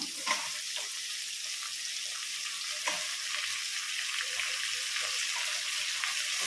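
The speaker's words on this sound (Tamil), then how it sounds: "நல்லா கிண்டி விடணும். கொஞ்ச நேரம் தக்காளி நல்லா வதங்கட்டும்." Tomatoes and onions sauté in a pan for vegetable biryani, giving a steady, close hiss of frying with faint scrapes of stirring and no talking.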